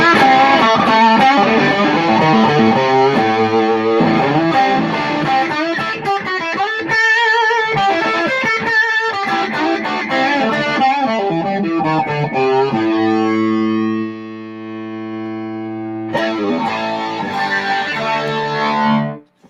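Electric guitar played through distortion and effects during a sound check, a loud, dense stream of sustained chords and notes that thins to one ringing held chord and then comes back full before it stops abruptly.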